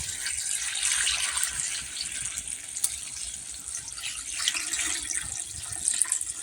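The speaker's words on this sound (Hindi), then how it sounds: "तो इसमें डाल दे रहे पानी" Water gushes steadily from a tap or vessel into a cooking pot in a home kitchen, a continuous bright splashing stream lasting several seconds with no talking.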